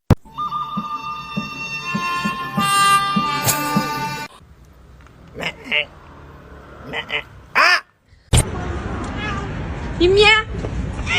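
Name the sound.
cat meowing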